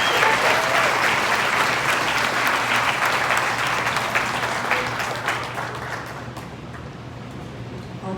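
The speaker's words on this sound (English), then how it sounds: "Give them a round of applause." An audience at a Teacher of the Year ceremony applauds, loud dense clapping that gradually thins and fades toward the end.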